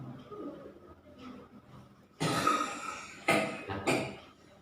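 A person with a bronchial cough lets out several harsh, loud coughs in close succession after a stretch of quiet breathing and low background noise, recorded close up indoors.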